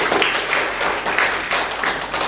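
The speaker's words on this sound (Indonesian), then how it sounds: "Tepuk tangan dulu untuk kita semua." Audience clapping hands at a school gathering, a continuous dense patter of many claps held at a steady loudness throughout.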